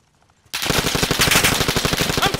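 Rapid automatic gunfire from the Call of Duty: Modern Warfare video game erupts after a short quiet moment, a loud, dense burst of shots in steady rhythm that runs to the end.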